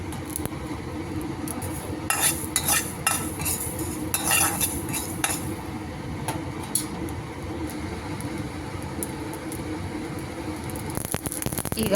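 Mustard seeds frying in a pan while a spoon scrapes and clinks against the metal, with a soft sizzle underneath and several sharp metallic taps, close and steady throughout.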